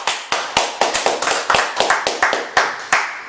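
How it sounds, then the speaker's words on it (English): A sparse round of applause: roughly a dozen separate, sharp claps in an uneven rhythm, close and fairly loud, rather than a full crowd ovation. "That's a round of applause."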